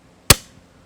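A Weihrauch HW 44 .177 air pistol fires once: a single sharp, loud crack with a short decaying tail, alone against near silence.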